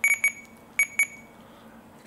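A Radiomaster Zorro radio transmitter emits bright, high electronic beeps in quick pairs, with two double beeps, a pause, another double beep and a final beep starting at the end, over a faint low hum.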